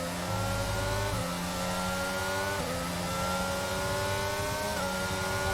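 A Formula 1 car engine in the racing game F1 22 screams steadily at high revs, with stepped gear shifts rising in pitch, loud and continuous with no talk.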